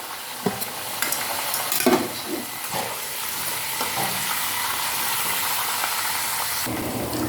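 Steady oily sizzle of chicken frying, with a few clinks and scrapes of a ladle early on, continuous and close throughout.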